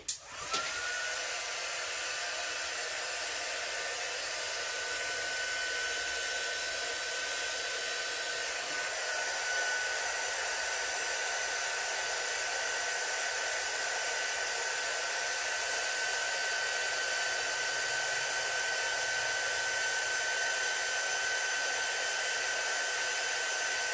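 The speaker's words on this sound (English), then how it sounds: "Let me just heat emboss," A heat embossing tool blowing hot air while making a stamped farmhouse Christmas card, a steady loud whooshing whine that starts abruptly and runs unbroken, close up, with no talking.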